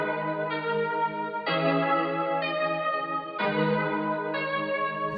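A chord progression resampled to a 10 kHz sample rate for a vintage, lo-fi character, with sustained harmonic chords changing roughly every second and held steadily at an even level throughout.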